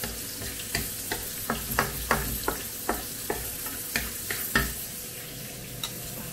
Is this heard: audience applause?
no